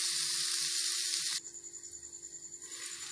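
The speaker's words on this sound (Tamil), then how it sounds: "இப்போ தக்காளி நல்லா ஃப்ரை ஆகிடுச்சு." Tomatoes fry in a pan for mushroom gravy with a steady bright sizzle, close and alone, thinning slightly midway and then rising again.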